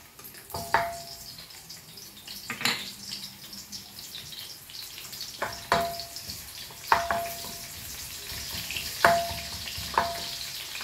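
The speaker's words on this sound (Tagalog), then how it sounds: "naglagay na po tayo ng mantika. Alam ko mainit na po yan guys. Maglagay na po tayo ng sibuyas." Onion fries in hot cooking oil for pancit, a continuous low sizzle broken by several sharp clatters of a utensil against the pan, with no voices.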